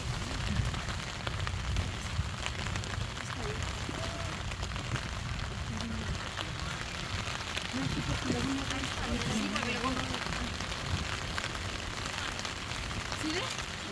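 Steady rain falls throughout, a dense, even hiss on surfaces with low rumbling underneath and faint voices murmuring in the background.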